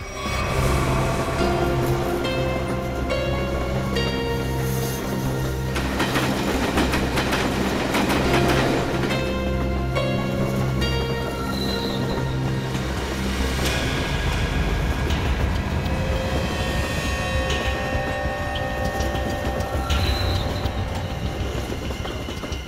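A train runs steadily on rails with a loud, continuous rumble and rhythmic clatter of wheels, faint squeals and whines rising above the roar throughout, with no talk.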